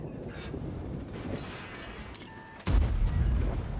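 A tank's main gun fires in a World of Tanks battle: a single sudden, heavy boom that rolls on loudly after a steady rumble of background battle noise.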